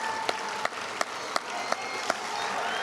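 Sparse, spaced claps ring out at a high school football championship reception, a few distinct sharp hand claps at a regular pace over a steady background of crowd noise.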